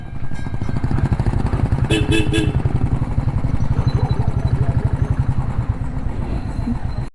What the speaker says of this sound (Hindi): अभी एक बार बाइकों को लगाते हैं कहीं साइड में